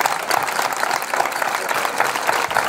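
An audience at a folklore night in Villarrubia applauds a choir and dance group from La Coruña, a dense, continuous wash of clapping.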